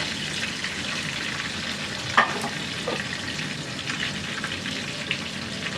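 Large koi fish frying in oil in a crowded, full frying pan, giving a dense steady sizzle with a few sharper pops and spatters, close by with no talking.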